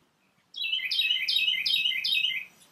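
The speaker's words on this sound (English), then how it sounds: "Sorry about the birds." Birds chirping close by in a quick run of bright, repeated downward-sweeping notes lasting about two seconds, clear against a quiet indoor background.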